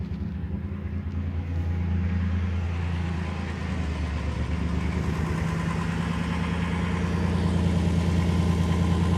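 A 2007 Dodge Caravan with a 3.3 V6 and a misfire fault idles steadily just after starting, a close, continuous low rumble that holds even throughout without any talk.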